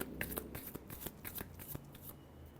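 Tarot cards are shuffled by hand in a quick series of soft, papery riffles and slaps, close and fairly quiet, with no talk over them.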